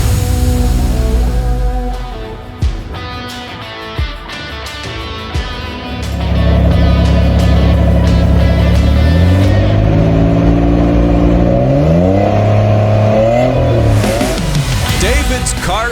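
A 1987 Nissan 300 ZX engine revving and accelerating, loud and close, its droning tone climbing and falling through several throttle sweeps, with a harmonic, music-like passage at the start before the engine takes over.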